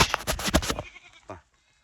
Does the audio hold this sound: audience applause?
no